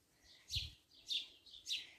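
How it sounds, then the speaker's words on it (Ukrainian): A small bird chirps three times in an even rhythm after rain in a Ukrainian village garden, quiet and a little distant against a soft outdoor background. "От ташки щебечуть після дощу."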